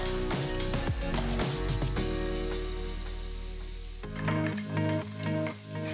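Garlic and vegetables sizzle in a hot pan, a loud continuous frying hiss with stirring scrapes, swelling again near the end as more goes in, alongside background music.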